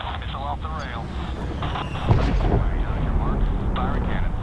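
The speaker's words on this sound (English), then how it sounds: "Missile off the rail." Missile launch in Medal of Honor (2010), a heavy rumbling blast with a roaring rush that swells midway, under radio chatter and aircraft noise.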